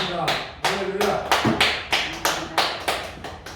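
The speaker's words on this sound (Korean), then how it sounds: "박수 한번 보냅니다." A small audience at a Korean Christian lecture claps, about eight sharp hand claps in an uneven patter close by, each one quickly decaying, with no crowd roar behind them.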